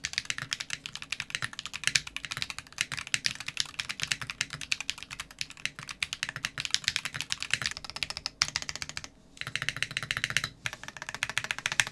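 Rapid, steady typing on a custom mechanical keyboard, crisp clacky keystrokes close up, with a couple of brief pauses and no talking.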